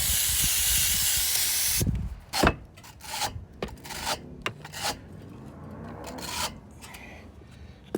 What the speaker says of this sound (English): Spray that on there.